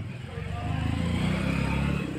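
A tractor engine runs in a rain-soaked village, a steady low rumbling chug with rhythmic pulsing that grows slightly louder and stays close, heard alone without talk.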